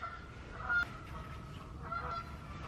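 Geese honk nearby, a couple of sharp nasal calls standing out over a steady background of softer honking.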